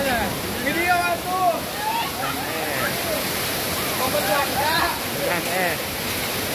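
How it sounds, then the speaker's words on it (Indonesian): Hail pouring down in Tasikmalaya, a steady broadband hiss of falling ice beneath several excited voices talking throughout. "Tasik Malaya hujan es"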